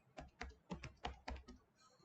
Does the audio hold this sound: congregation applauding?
no